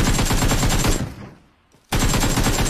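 Loud, dense gunfire in a mobile battle royale game rattles continuously, cuts out for nearly a second, then resumes just as hard.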